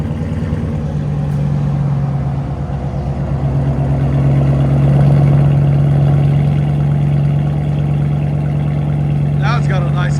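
A 2011-2014 Dodge Charger R/T with aftermarket exhaust idles with a deep, steady rumble, swelling slightly midway, heard close and continuous, with a brief chirping sound near the end.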